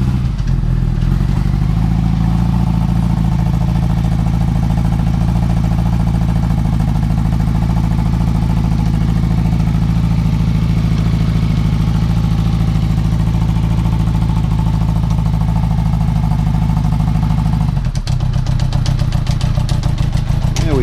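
A motorcycle engine runs roughly without choke, a loud, close, continuous throbbing rumble. It ends in a brief burst of clattering.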